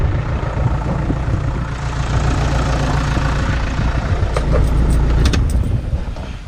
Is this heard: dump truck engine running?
yes